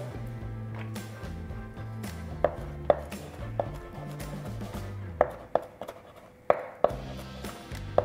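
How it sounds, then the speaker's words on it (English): Herbs such as dill being chopped with a knife on a cutting board, a rapid run of close, sharp taps that comes in bursts with short pauses, fairly quiet overall and with no talk. "I've chopped up about a tablespoon of each of the herbs"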